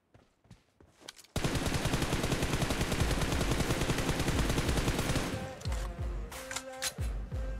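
An M416 rifle fires in a PUBG-style shooter while aiming through a 6x scope: a long, loud unbroken automatic burst, then a few scattered separate shots and clicks.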